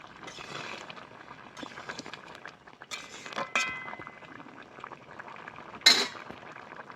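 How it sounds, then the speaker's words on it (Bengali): A pot of prawn, pumpkin and malabar spinach curry simmers with a soft, steady bubbling hiss, broken by a few sharp metallic clinks of a utensil against the pot near the end. "একদম গপ করে ফুটছে।"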